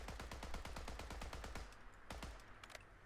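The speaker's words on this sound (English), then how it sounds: "This one is machine gun." Rapid automatic machine-gun fire from a weapon in Fallout 4, a fast even burst of loud shots for about a second and a half, then a few separate trailing shots and tail-off.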